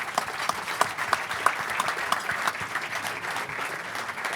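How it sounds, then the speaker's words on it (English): An audience applauds after a panel discussion at a World Economic Forum 2024 event tent, steady clapping from a crowd with a few sharper claps standing out, sustained from start to finish. "A big applause to all of you."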